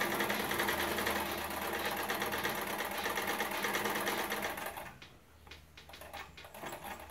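An old restored sewing machine runs steadily and loudly for about five seconds, then stops, leaving quieter clicks and handling noises from the machine.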